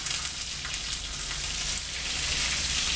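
Butternut squash hits a pot of browning potatoes for a vegan soup, setting off a steady, close, continuous sizzle and crackle with no voices.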